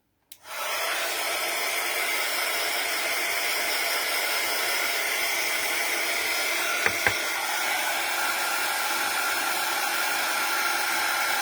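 A heat tool blows hot air over Ice White 13 x 26 cm card to change its colour, starting abruptly and then holding a loud, steady blowing whoosh close by, with two tiny clicks partway through.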